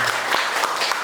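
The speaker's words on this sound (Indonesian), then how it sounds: "tepuk tangan buat kita semua" A short burst of many small hands clapping together as children applaud in a classroom, brisk and uneven, filling the whole moment.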